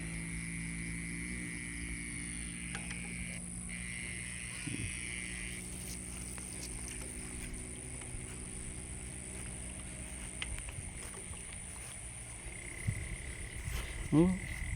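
Frogs croaking at night around a pond, a steady chorus of trilling calls with insect buzz beneath it, and a few closer rustles and footsteps near the end.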